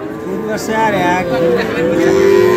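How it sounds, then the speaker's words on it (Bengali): Cattle moo loudly and close at a bull market in Dinajpur, a long, drawn-out low call lasting several seconds as people talk nearby. "সাহেব আলী ভাই কটা গরু আছে আজকে?"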